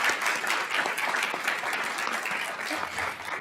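An audience at a school district governing board meeting claps in a steady, moderately distant round of applause that holds evenly and then tapers slightly near the end.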